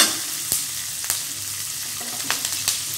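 Sliced onions and curry leaves sauté in hot oil for a potato masala, giving a steady close sizzle with a few sharp stirring clicks spaced through it.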